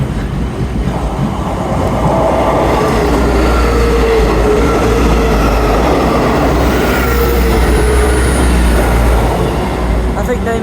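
A Class 159 diesel train rolls through Clapham Junction station, a loud, steady rumble with a deep low drone and rail clatter that fills the whole stretch, heard from close by on the platform.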